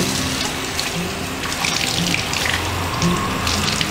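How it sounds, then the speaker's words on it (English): Tap water runs steadily and close while dyed cushion covers and table runners are rinsed and wrung by hand, with a continuous splashing flow throughout. "Nicely I will wash and rinse the cloth."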